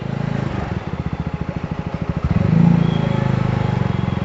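A Jawa 42 Bobber motorcycle engine idles with a rapid thumping putter, then revs up and pulls away, loud and close throughout.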